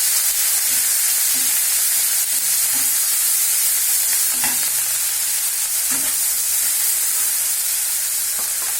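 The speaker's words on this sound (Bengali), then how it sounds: "দিয়ে দিচ্ছি পেঁয়াজ" Onions fry in hot oil for a fish malaikari, giving a steady, loud sizzle throughout with occasional stirring scrapes on top.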